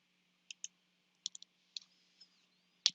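A computer mouse clicking on a sign-in button: a handful of quiet, crisp clicks spaced irregularly in a near-silent room, with one sharper click at the end.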